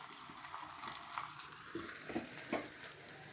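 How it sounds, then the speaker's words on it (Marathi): A dhapate flatbread roasts on a blackened tava griddle, a soft, low sizzle with a few faint scrapes and taps, close by and without talk. "जरा खरपूस भाजू द्यायचा जास्त बी खरपूस नाही"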